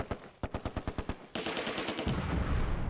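MG42 machine gun fire in the World War II strategy game Close Combat, a string of about eight sharp, evenly spaced shots, followed by a denser crackle of overlapping gunfire and rumbling battle noise.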